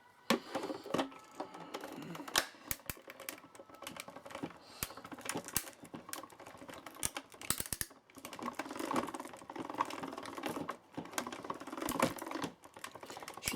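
Paper and a cutting plate are fed through a die-cutting machine, giving a close run of irregular sharp clicks and clacks with short pauses between bursts.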